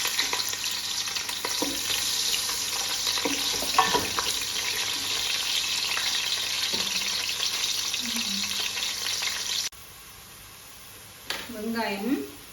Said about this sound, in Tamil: இப்போ கொஞ்சம் வெங்காயத்தை போட்டு பொரிக்கிறேன்.